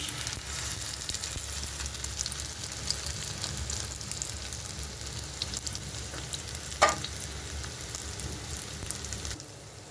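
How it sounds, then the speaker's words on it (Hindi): Chicken shami kababs fry in a pan over a medium flame, giving a steady, even sizzle and crackle that stays close and constant throughout, with a single brief clink near the end and no voices. "बस फ्लेम आपने मीडियम रखनी है ताकि शामी जो है हमारे जले नहीं और बेहतरीन कुक होते जाएं।"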